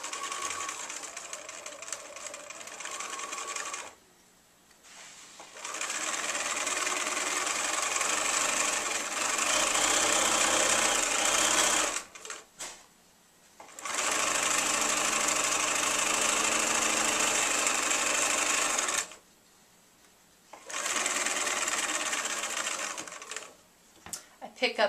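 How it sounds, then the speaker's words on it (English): A sewing machine sews quilt blocks for a crazy log cabin quilt in long continuous runs, loud and close, broken by short quiet gaps. "I like to use a leader piece to begin sewing."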